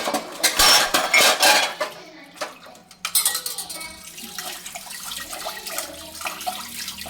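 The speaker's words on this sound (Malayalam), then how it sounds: "ഞാൻ കുറച്ച് പാത്രങ്ങൾ ഞാൻ ഇവിടെ കഴുകും. വലിയ പാത്രങ്ങൾ കുറേ പാത്രങ്ങളുണ്ട്." Large dishes and pots are washed under running water at a home sink, with clattering metal, clinks of cutlery and splashing that are loud at first, then a steadier trickle with lighter knocks.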